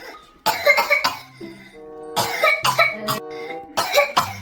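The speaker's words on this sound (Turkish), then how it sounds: "Öksür bakayım" A feverish child coughs in short bursts during a doctor's examination in a hospital, several harsh coughs in quick clusters separated by brief pauses, close to the microphone.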